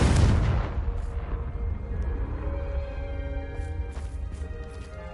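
The Confringo fire spell from the Hogwarts Legacy game bursts with a sharp, loud boom that rumbles and fades over a few seconds. A few faint, bright magical shimmers trail in the decaying tail.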